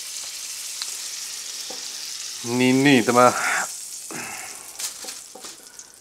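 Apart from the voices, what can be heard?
moose steaks frying in a pan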